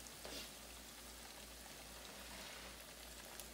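Fresh-caught crappie fries in hot oil with a faint, steady, continuous sizzle that stays even throughout and is heard alone, without talk.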